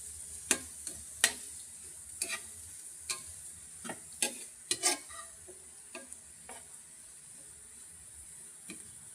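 Vegetables stir-fried in a pan, with a soft sizzle under repeated sharp clacks and scrapes of a utensil against the pan, coming in irregular bursts that thin out toward the end.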